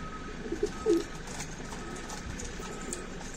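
Pigeons coo softly in coops packed with birds, a few low murmuring calls near the start set against a steady background hum.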